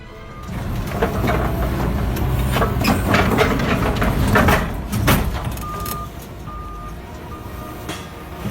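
A train brakes hard near a truck at a level crossing, a loud rumbling grind and screech that swells for several seconds and then fades, with brief warning tones sounding near the end.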